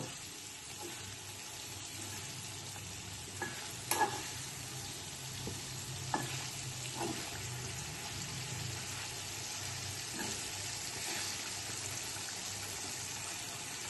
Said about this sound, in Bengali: পনিরগুলো খুব হালকা করে আমি ভেজে নেব